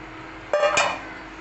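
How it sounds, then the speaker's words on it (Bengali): Eggs go into a pot of simmering potato curry, giving two quick clinks of metal and crockery in a row, close and moderately loud against a quiet background. "এবার আমি ডিমগুলো দিয়ে দেবো"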